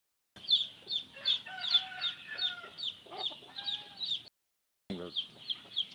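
Newly hatched chickens being raised on a farm cluck and peep close up in a quick, steady series of short calls. The calls break off in a brief silence, then resume.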